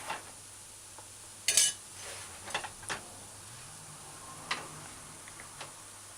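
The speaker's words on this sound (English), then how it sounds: "just get a spoon that scoops and remove most of the oil" Spoon scooping oil off a pot of mala beef: scattered metallic clinks and scrapes against the pot, one sharper clatter, over a faint low hum.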